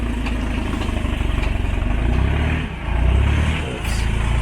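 A Hummer's small-displacement diesel engine runs close by with a loud, rapid rhythmic chugging and clatter, dipping briefly before picking back up.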